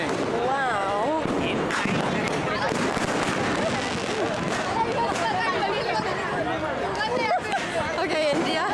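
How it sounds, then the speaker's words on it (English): Firecrackers and fireworks go off during Diwali celebrations in India, a dense, continuous stream of bangs and crackles mixed with crowd chatter and whistling rockets. "now there are tons of firecrackers and fireworks happening"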